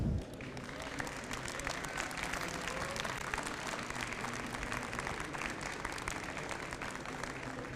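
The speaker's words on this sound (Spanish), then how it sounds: "Que nos aplaudan." An audience applauds after a talk on saying goodbye from a medical perspective, a dense, even wash of many hands clapping, steady and somewhat distant, sustained for several seconds without speech.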